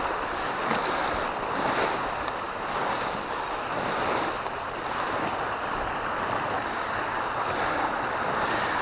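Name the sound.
river water flowing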